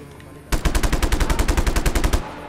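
In the video game Just Cause 3, a gun is fired from a motorbike in a rapid, loud burst of about twenty evenly spaced automatic shots, with no one speaking.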